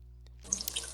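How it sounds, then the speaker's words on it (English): Water begins running from a faucet about halfway through, a faint hissing splash after a quiet start with a single soft tick beforehand. "I think the water faucet."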